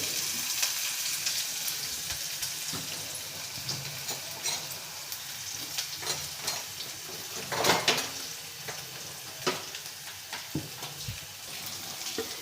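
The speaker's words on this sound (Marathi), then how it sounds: "त्यानंतर आता आपण कांदा सोडणार आहे। कांद्याला थोडं होऊ द्यायचं आहे।" Chopped onion frying in a pan with tomato slices, a steady low sizzle with occasional soft clinks and stirring scrapes, close and fairly quiet.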